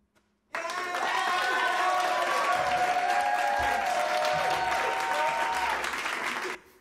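Recorded applause played back by a band on stage at a theatre in Munich during a livestreamed concert, a dense, steady wash of clapping and crowd noise that starts abruptly, holds at full level for about six seconds, then cuts off.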